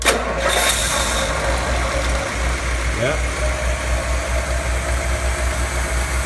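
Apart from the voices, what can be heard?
Ford Thunderbird engine cranking, starting and idling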